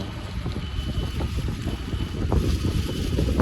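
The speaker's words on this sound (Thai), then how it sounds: "โอ้ยมีลมด้วย" Steady wind roars outdoors on a cold winter day near a factory in South Korea, a broad continuous rush with gusting rumble buffeting the microphone, no voices.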